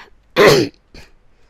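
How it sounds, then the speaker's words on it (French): One harsh, loud cough bursts out close to the mic, followed by a smaller, quieter cough shortly after. "Excusez-moi quand je tousse."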